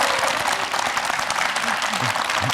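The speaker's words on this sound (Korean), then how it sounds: "박수 한번 주세요." A town hall audience in Gwangju's Seo district applauds heartily, and the clapping is loud and continuous. Voices murmur and speak underneath the applause through most of the stretch.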